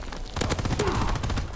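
Gunfire in the video game Call of Duty WWII: a rapid run of sharp shots, like a machine gun burst, fairly close and sustained over a second with some fainter noise beneath.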